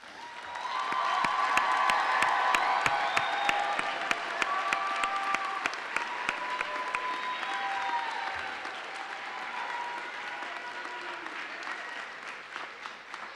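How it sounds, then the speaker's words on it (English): A graduation crowd applauds at a fall commencement for the College of Liberal Arts and Social Sciences at Texas A&M University-Victoria, dense and sustained clapping that fills the hall for over ten seconds and slowly thins toward the end. "while we give you a round of applause"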